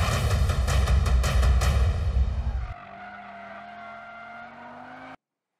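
A 2022 Audi RS3 drifts on a racetrack in its rear-biased drift mode, first with a loud, rough roar of engine and tire noise, then a steadier, quieter engine tone that ends abruptly.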